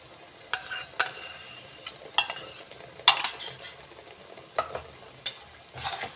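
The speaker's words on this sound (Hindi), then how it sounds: "और फिर इसे कंटिन्यू चलाना है, वरना ये दही और मलाई फट जाएगी।" Whipped yogurt and cream being stirred in a pan over a low flame for a restaurant-style mixed vegetable dish: a spoon scrapes and taps the pan in irregular strokes, close up and fairly quiet, with no talking.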